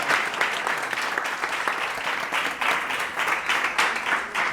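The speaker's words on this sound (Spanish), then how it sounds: "dale un aplauso al presidente" A conference audience applauds their president in a steady, dense round of clapping that holds at an even level throughout, close and sustained.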